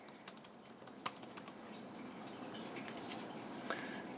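Keys tapped on a large computer keyboard while entering a username to log in to a handheld's retro gaming account, with a few soft, scattered clicks, one or two slightly sharper, over a steady quiet room hiss.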